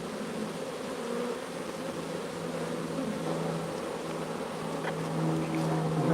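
Bees buzz steadily inside an open beehive, a dense, continuous hum heard close up, with the drone of many insects swelling and thinning slightly throughout.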